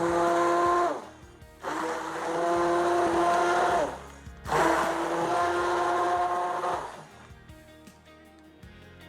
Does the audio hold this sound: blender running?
yes